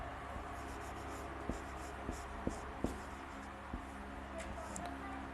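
Pen or chalk writing a numeral by hand during a math lesson, with soft scratchy strokes and several small taps, quiet in a room.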